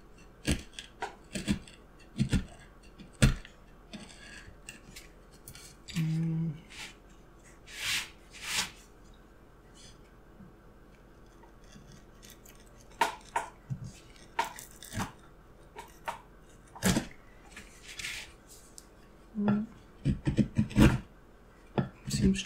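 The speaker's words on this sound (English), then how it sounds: "Let's try the flat chisel." A flat chisel carves wood in scattered sharp scraping cuts and ticks, close and fairly quiet, with brief pauses between strokes and a little speech.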